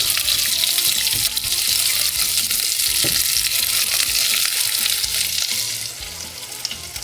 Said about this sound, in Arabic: وهذا البصل هسه نحمسه الى حد ما يتغير لونه